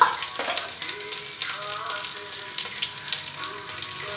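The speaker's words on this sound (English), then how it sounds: "oil become hot, then we put ginger garlic paste" Ginger garlic paste sizzles in hot oil while aloo tikki chaat is cooked, a steady broadband frying hiss with faint scraping and clinks running throughout, no voices.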